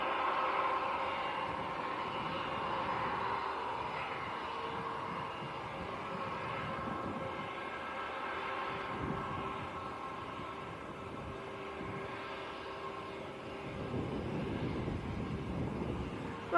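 A British Airways Airbus A320 at Manchester Airport gives off a steady, broad engine roar that holds evenly throughout, swelling slightly toward the end and heard from a distance.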